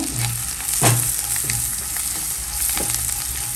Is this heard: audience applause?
no